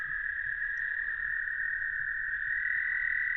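Spring peeper frogs call in a dense chorus, a continuous high shrill trilling that stays steady and fairly loud throughout, with no voices.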